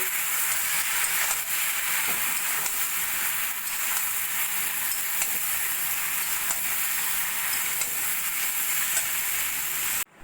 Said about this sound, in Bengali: লাউ ভালো করে মশলার সঙ্গে মিশিয়ে নেব